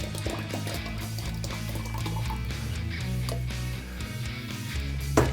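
A thick homemade ice cream mixture pours steadily into a container with a continuous soft, liquid gurgle, close and moderately loud, with no talking.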